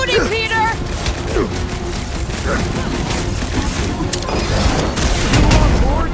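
Gunfire and booming blasts from a Marvel's Guardians of the Galaxy combat fight fill a loud, busy battle mix, with shouted character voices talking over the shooting.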